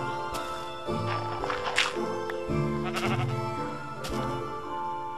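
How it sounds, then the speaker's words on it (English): Several Minecraft sheep bleat repeatedly inside a house, overlapping wavering cries at close range, with background game music running beneath them. "Shut up, sheep! Get out of my house."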